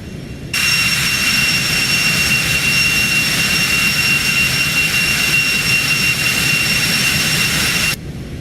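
The engines of a Cessna Citation business jet roar as it climbs, a loud, steady wideband rush with a high whine that starts abruptly, holds for about seven seconds and then cuts off.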